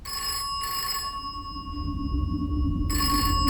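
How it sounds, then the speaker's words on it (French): A telephone rings insistently in a scene from a 1994 French film, with bright bell bursts at the start and again near the end, a lingering tone between them and a low rumble underneath. "ce téléphone qui sonne sans arrêt"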